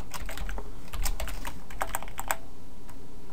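Fingers type a quick paragraph on a computer keyboard, with a close burst of rapid, uneven key clicks that thins out and stops near the end.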